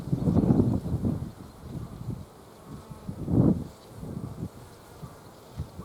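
Honey bees buzzing around an open beehive that had been hit by robber bees, a close, swelling drone with several louder passes as individual bees fly near, over faint rustling.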